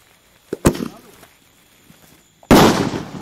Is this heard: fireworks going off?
yes